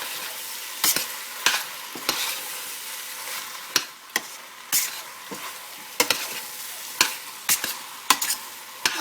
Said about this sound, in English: We're going to stir the beef in with the other vegetables.